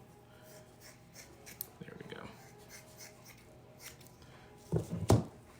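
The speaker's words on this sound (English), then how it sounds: "I'm gonna cut some hair. These scissors do not work very well." Scissors snip at hair in a few soft, scratchy cuts, faint and irregular, followed by a louder rustle near the end; a person speaks briefly.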